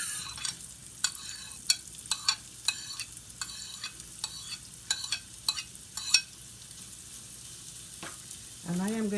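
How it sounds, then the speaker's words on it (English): Mushrooms stir fry in a pan, with a constant sizzle under repeated sharp scraping and clattering stirs in an irregular rhythm, close and fairly loud, quieting near the end. "I am going to allow that to stir fry in that pan for about 3 minutes."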